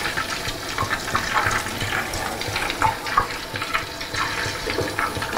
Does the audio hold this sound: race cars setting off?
no